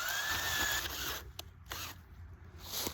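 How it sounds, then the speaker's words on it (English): A power drill, not working properly, whirs with a whining motor pitch for about a second, then stops, followed by a few short clicks and rattles. "my drill ain't working exactly how I wanted it to."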